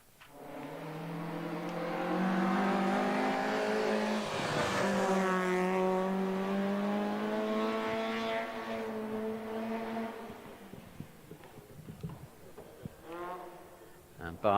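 A race car at Wiscombe Park hillclimb swings wide into the left-hand Wiscombe corner, its engine note rising and falling through gear changes as it passes close and loud, then fading into the distance.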